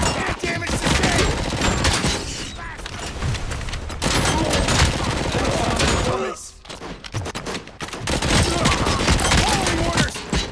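Heavy gunfire from a RoboCop: Rogue City firefight, dense overlapping volleys of shots and impacts that run almost continuously, dropping briefly before resuming, with shouted voices mixed in.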